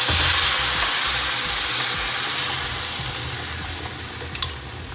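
Green salsa poured into a pan of browned, fried pork rinds sets off a loud, close, hissing sizzle that slowly eases over several seconds, with a light clink near the end.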